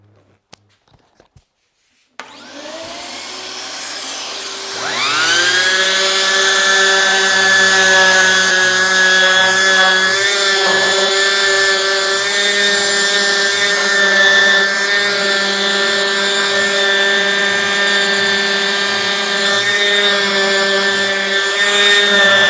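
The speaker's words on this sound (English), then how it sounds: "Let's get sanding. It's going to be a bit noisy." Power sander with a dust extractor spinning up on a wooden frame, a few clicks then a rising whine settling into a loud, steady high-pitched drone with a rhythmic pulsing underneath as it works the wood.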